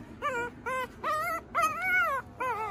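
A litter of newborn puppies, eyes still closed and abandoned at a doorstep, whimpers in five high, wavering whines, each about half a second long with short gaps, close and clear.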